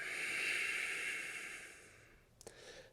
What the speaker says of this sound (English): So what that will look like is I'll go exhale.